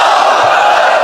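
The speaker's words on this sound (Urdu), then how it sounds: "آئیے میرے ساتھ نعرہ بلند کریں" A large crowd at a Pakistan Army rally roars a slogan back in unison after the takbir call, one loud, sustained massed shout with no break.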